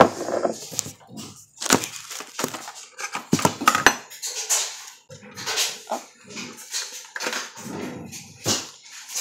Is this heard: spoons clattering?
yes